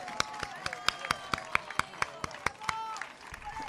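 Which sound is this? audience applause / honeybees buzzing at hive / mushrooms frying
audience applause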